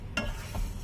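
Whole coriander seeds dry roasting in a pan, two short stirring rustles against a low sizzle, close and alone.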